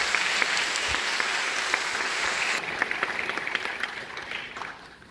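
Auditorium audience at a Korean programming contest giving sustained applause for a speaker, thick clapping that thins and fades over the last seconds, heard alone.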